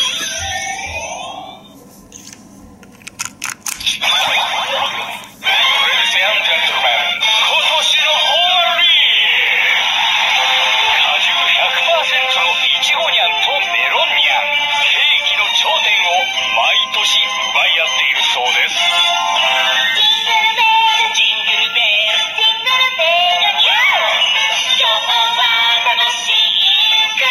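A Yo-kai Watch medal toy from a character-decorated Christmas cake plays its audio, a loud, bright, continuous electronic jingle with buzzy tones that kicks in after a few seconds of handling and keeps going without pause.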